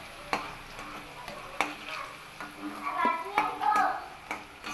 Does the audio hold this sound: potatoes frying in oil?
yes